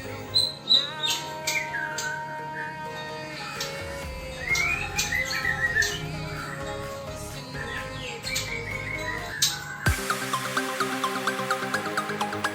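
Young songbirds squawk and chirp repeatedly at close range, a busy run of harsh calls that turns into rapid, insistent cheeping near the end.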